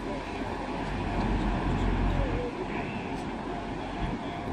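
Steady low rumble of a train pulling out of Manchester Airport station on the Styal Line, broadband rail noise holding at a constant level with faint squeal tones above.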